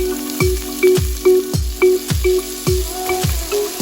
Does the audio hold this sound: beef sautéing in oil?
yes